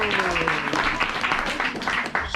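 An audience at a Sunday feast programme gives a big round of applause: dense, steady clapping fills the whole stretch at close range, with a voice faintly audible underneath.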